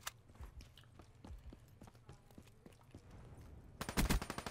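Gunfire in the video game Call of Duty Black Ops: scattered single shots early, then a dense rapid automatic burst near the end, all over a steady game background with no talk.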